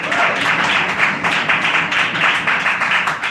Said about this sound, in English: Clap it up. Clap it up for Dan